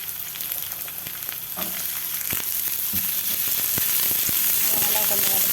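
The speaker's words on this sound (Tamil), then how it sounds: "ஆயில் காய்ஞ்சதும் வெங்காயத்தை போட்டுக்குவோம்." Onions drop into hot oil in a pan and sizzle steadily. The frying grows louder and denser, and a few clicks and scrapes of stirring come through. No one speaks.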